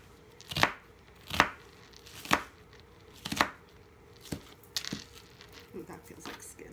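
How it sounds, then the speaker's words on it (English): A knife chops through an onion on a cutting board in a series of crisp, evenly spaced thuds, about one per second, followed by a few lighter, quicker cuts, close and clear. "now that this onion is kind of chopped, or kind of thin, I'm just going to chop it"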